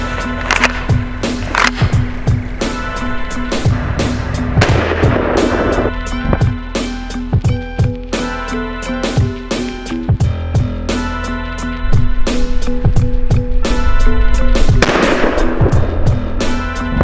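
Loud, close gunshots ring out in an irregular series of sharp cracks, fired at a wrecked Can-Am X3 Turbo side-by-side; no talking, just repeated reports with ringing tails.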